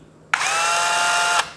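A compact DOLIZ BD636 12V brushless cordless drill spins up sharply and runs at a steady high whine for about a second before stopping abruptly, close and loud with no talking.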